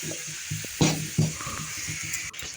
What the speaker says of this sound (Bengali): চিকেনটা আমি একটু হালকা তেলে ভেজে নিচ্ছি